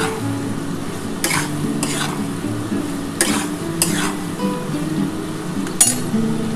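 Salt, turmeric, chilli powder and sugar fry in oil for a fish curry, a low steady sizzle under several sharp clinks and scrapes of a metal spatula against the pan.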